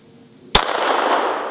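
A single loud, sharp gunshot from a Beretta 81 pistol fired at a card target, cracking suddenly after a quiet moment and trailing off in a long outdoor echo.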